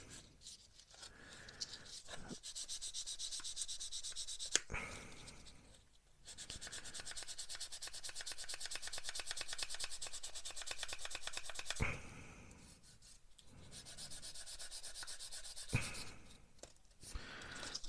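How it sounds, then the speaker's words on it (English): A polishing stick rubs back and forth across a soft plastic part from a Tamiya M1A2 Abrams tank model, making close, quiet rasping strokes in several bursts of a few seconds each, broken by short pauses. "You might have to come in with a polishing stick and polish it up."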